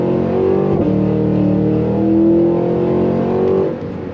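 A 2023 Cadillac Escalade V SUV accelerates hard on throttle, a loud steady engine roar rising in pitch with one brief gear-change dip, then easing off near the end.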